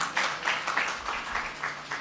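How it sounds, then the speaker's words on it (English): An audience at an international business management conference claps for colleagues from Tanzania, giving a short, fairly loud burst of scattered applause that fades quickly. "Clap hands for them."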